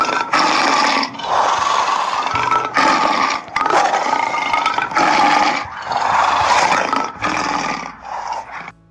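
A tiger gives a series of loud, throaty roars and growls, close and raw, in bursts of about a second or two separated by short breaths, with no talk over them.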